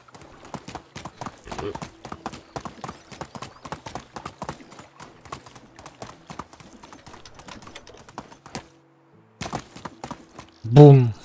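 Steady clip-clop of horse hooves at a walking rhythm in the video game Medieval Dynasty for several seconds, pausing briefly, then ending with a loud whinny.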